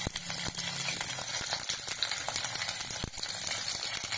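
Garlic, ginger, fennel seeds and grated coconut sauté in a pan for a banana flower gravy masala, a close, steady sizzle broken by occasional sharp clicks of stirring.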